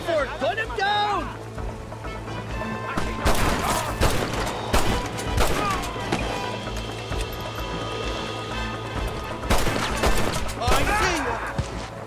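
Gunfire from a Red Dead Redemption shootout, scattered shots and short volleys cracking over a busy game soundscape with steady background hum, loudest in bursts near the middle and end, with voices talking at the start.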